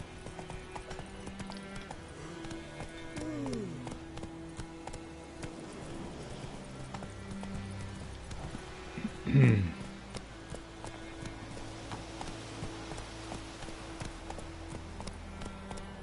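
Roach, a horse in The Witcher 3: Wild Hunt, gallops with steady rhythmic hoofbeats through the whole stretch, with a brief louder burst midway, over game music and a soft voice.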